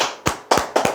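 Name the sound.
audience clapping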